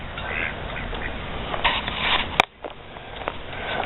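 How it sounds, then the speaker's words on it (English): Farmyard ducks quack in short bursts around a rural home, a loud sharp call standing out midway among scattered softer quacks and background noise. "We got ducks coming out our butt."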